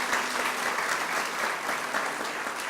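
Audience at a bank town hall meeting applauding, a dense steady wash of many hands clapping throughout, fairly near and uninterrupted.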